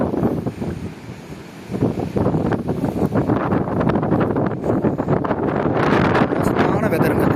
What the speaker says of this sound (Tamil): காற்று அது அந்த அளவுக்கு இருக்கு.